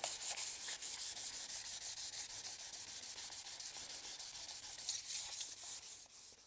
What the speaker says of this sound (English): Got some 1000 grit sandpaper here.